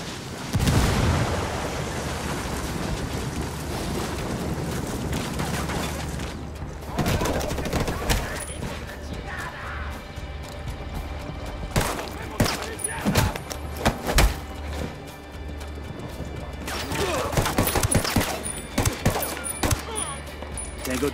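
A frag grenade explosion and gunfire in the video game Ghost Recon Wildlands: a dense, loud fusillade of shots and booms, easing off midway before heavier bursts return toward the end.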